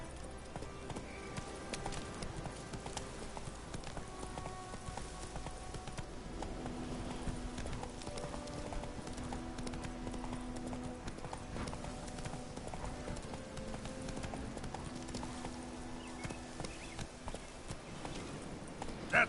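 Roach, a horse in The Witcher: Wild Hunt, gallops in a steady, rhythmic clip-clop that continues throughout, with game music beneath and little talk.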